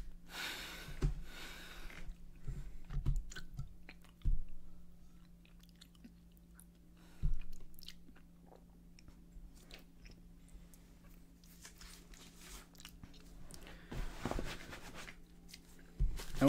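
Feastables chocolate bars are bitten and chewed close up in a quiet room, with several sharp snapping bites early on, then soft intermittent chewing and mouth sounds, and another crisp bite near the end.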